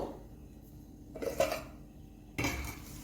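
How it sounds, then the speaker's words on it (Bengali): Bowl set down over a dough filling for litti in a home kitchen, giving a couple of close ceramic clinks and taps, with a louder knock near the end and quiet gaps between. "এই বাটিটা দিয়ে এটা চাপা দিয়ে রাখলাম"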